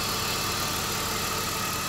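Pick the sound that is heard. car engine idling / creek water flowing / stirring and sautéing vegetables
car engine idling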